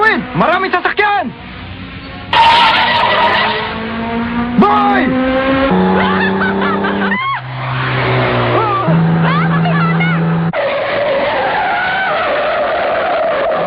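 A dramatized car skids on a road with long, loud tire squeals and screeches before striking a child's would-be rescuer, while voices shout and speak over the sound effects.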